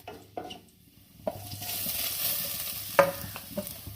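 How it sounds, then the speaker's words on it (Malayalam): Crushed coconut frying with shallots in coconut oil, a steady soft sizzle with a few sharp scraping stirs of a spoon against the pan. "ഉള്ളി ഒന്ന് മൂത്ത് കഴിഞ്ഞിട്ട് നമുക്ക് അതിലേക്ക് ചതച്ച് വെച്ച തേങ്ങ ഇട്ട് കൊടുക്കണം."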